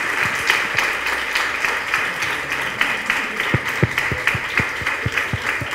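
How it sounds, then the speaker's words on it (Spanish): Applause from the audience at a panel discussion about hospitals in times of emergency, steady clapping with a few sharp, distinct nearby claps standing out, moderately loud and unbroken. "les damos un fuerte aplauso."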